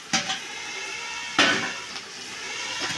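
A spoon scrapes and clinks against a pan while stirring poriyal after curry leaves and coriander go in, with a few distinct metallic knocks over a soft background hiss.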